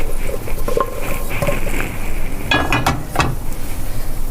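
Gilani pumpkin kaka dessert sizzles and patters in a frying pan, a steady close hiss of hot oil with a few sharper crackles and a brief clatter of handling near the end.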